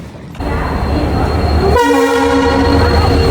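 A train rumbles steadily at a station, then a loud, sustained horn sounds over the ongoing mechanical hum.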